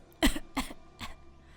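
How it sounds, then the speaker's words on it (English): Video game character, a captain in Tyranny, coughing up blood: three separate wet coughs spaced roughly a third of a second apart, the first loudest, fairly quiet and close, with no speech. "The captain coughs up blood."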